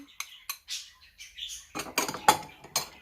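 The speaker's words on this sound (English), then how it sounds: "so just mix them all together" Spices for a roast whole chicken, including black pepper and powdered marjoram, are stirred together in a bowl, producing a string of sharp, close clinks and scrapes of a spoon, sparse at first and then quicker and denser, with no talk.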